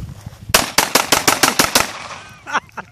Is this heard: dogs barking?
no